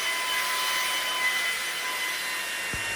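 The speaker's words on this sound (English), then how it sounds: "that's the problem I have when I hoover a long carpet" A Ryobi R18sv7 cordless stick vacuum runs on a long carpet with a steady, loud whirring motor whine and airy rush, continuous and close, with a brief low thump near the end and no talk.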